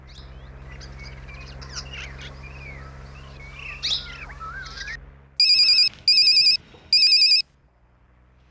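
A phone rings three times in quick bursts, each a loud, bright electronic trill, after a stretch of faint birdsong and low background hum.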